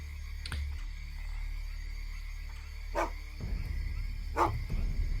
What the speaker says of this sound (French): Sur ta gauche, un aboiement.